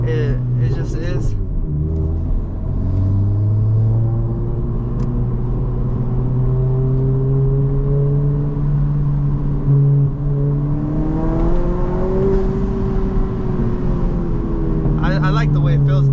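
Engine of a built 2022 Honda Civic Si with a Ktuner V2 drones steadily during a road drive, its pitch rising and falling through gear changes, loud and close, with a voice talking over it.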